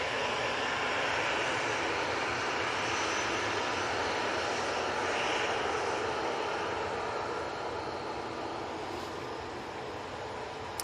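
EasyJet airliner engines roar close by at Manchester Airport. A loud, continuous broadband jet rumble and whine holds for about eleven seconds, easing slightly toward the end.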